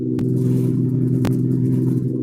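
A 1998 BMW 320i E46 with a straight-pipe exhaust drones loudly and steadily while driving, a deep constant engine hum with two brief sharp clicks.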